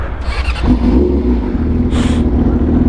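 A Yamaha R6 track motorcycle engine revs up loud and close in a short burst, its throaty drone holding steady with a brief higher surge near the end.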